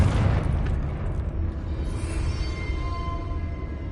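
A Confringo spell in the Hogwarts Legacy video game bursts into a loud, deep booming explosion that hits at once and rolls on as a low rumble fading away, with no voices over it.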